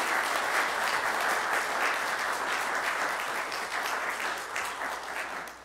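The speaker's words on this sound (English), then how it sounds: "let's offer a round of applause for our bold women in the congregation" A church congregation applauds during Sunday worship at a Lutheran church, dense and even clapping that fills the room and slowly thins toward the end.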